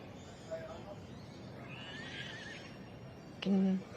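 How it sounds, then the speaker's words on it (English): Horses whinny at a busy show ring as mares and foals enter the section A ring, with one brief faint neigh early on and a louder, clearer whinny near the end over steady crowd and arena noise. "Can tell the mares and foals have entered the section A ring."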